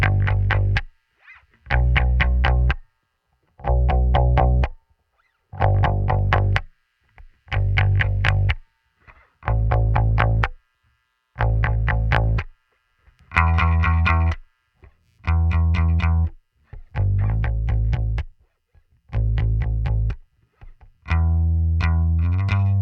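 Electric bass playing a repeated riff of separate sustained notes with short gaps, processed through a heavily boosted single EQ band that thickens the low end, loud and alone with no talking.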